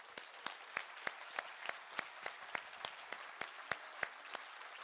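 An audience at the Luchon television festival claps in sparse, distinct strokes at a fairly steady pace, faint and somewhat distant, with no voices over it.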